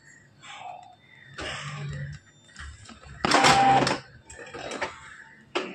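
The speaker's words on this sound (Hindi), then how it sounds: "चलिए, हमारा ये प्रिंट आउट सेटअप रेडी हो गया है, हम एक प्रिंट करते हैं फोटो पेपर में" An Epson L3210 inkjet printer feeds and prints a photo on photo paper, giving short mechanical whirs and clunks in separate bursts, with one louder run in the middle.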